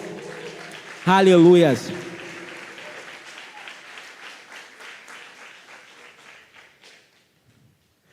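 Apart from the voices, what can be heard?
church congregation applauding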